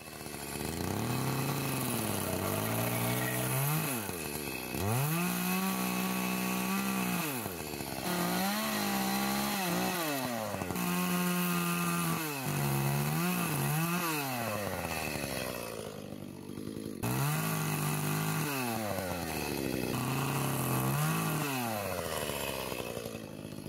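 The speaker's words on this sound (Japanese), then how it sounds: "あんまり深い考えなしにチェーンソーで適当に切ってるんやけど" A chainsaw cuts through peeled hinoki cypress logs while a rough stand is being built, the engine loud and close, revving up and bogging down in repeated long cutting passes with brief idles between them.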